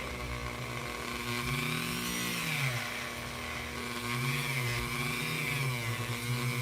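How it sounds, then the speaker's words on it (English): A small high-pitched rotary power tool whines continuously while sanding down a plastic action figure part, its pitch dipping and rising slightly as pressure on the piece changes, close and steady throughout. "I'm going to go ahead and start to sand this"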